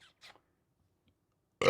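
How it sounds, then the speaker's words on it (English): A big-pawed three-month-old puppy lets out a single loud, close burp at the very end, after a few faint murmurs and a stretch of near silence. "That's his first burp."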